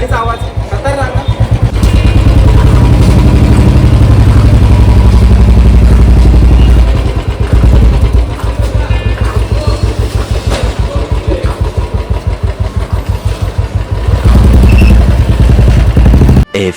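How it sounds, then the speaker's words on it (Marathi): A motorcycle engine runs close by with a loud, steady throbbing beat, dipping briefly as the revs change, then carrying on at a strong idle to the end. "कसं वाटतं गाडीचा आवाज खतरनाक ना?"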